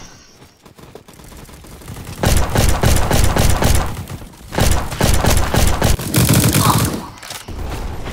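Rapid gunfire in the online shooter Bad Business, loud bursts of shots cracking in dense runs with brief pauses between volleys, a single short exclamation from a player near the start.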